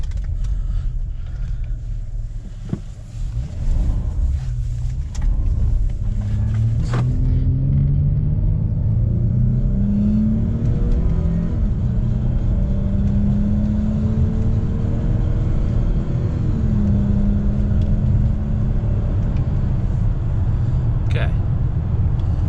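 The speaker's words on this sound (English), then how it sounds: "I don't know if you guys heard the tires slip, but the rear tires slipped" A Chrysler 300 in four-wheel drive rolls over gravel in cold weather, a low close engine rumble rising in revs as the rear tires slip, with people talking throughout.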